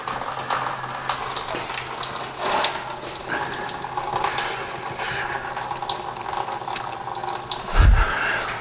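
Coolant draining from a small block Ford radiator with the cap off, a continuous splashing trickle of liquid with a brief low thump near the end.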